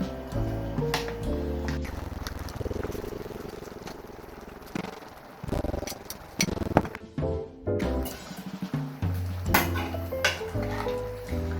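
Cheese powder being stirred into cream pasta with scorched rice crust in a pot, a utensil clinking and scraping against the pot in uneven bursts, close, with occasional light clatter and no talk.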